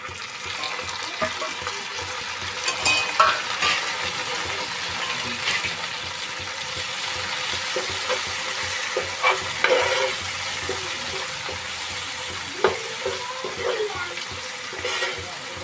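Tomatoes and chillies sizzle in hot oil for a chicken dana gravy while a spoon stirs them, giving a continuous frying hiss broken by occasional scrapes and clanks against the pan, close and moderately loud.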